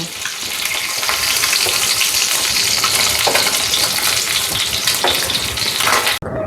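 Tangra fish fry in hot oil with a loud, dense, continuous sizzle and crackle close by, holding steady throughout before a sudden brief cut near the end.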